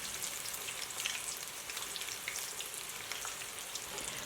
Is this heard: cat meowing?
no